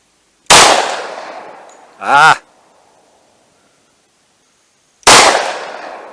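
Two sharp, loud gunshots from a 1911 pistol firing Fort Scott Munitions .45 ACP rounds into ballistic gel, about four and a half seconds apart, each with a short decaying tail, and a brief wavering tonal burst in between.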